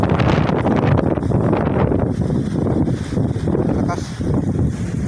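Strong wind buffets the microphone in a steady, loud roar with gusts by the sea, with waves nearby.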